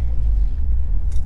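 Low, loud engine and road rumble from inside a moving Subaru WRX, picked up by a camera-mounted microphone, steady for a brief moment with a faint hiss near the end.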